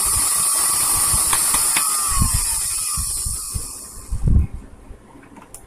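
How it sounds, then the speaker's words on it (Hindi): A repaired Prestige 550 watt mixer grinder running with a high steady whine and hiss, then spinning down and stopping near the end with a few clunks. "ये मिक्सर जो है वो सही हो चुका है, ये मिक्सर काम कर रहा है"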